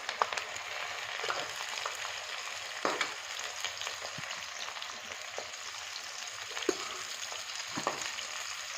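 Okra frying in hot oil with ghee gives a steady close crackling sizzle, broken by occasional soft taps and pops, with no voices.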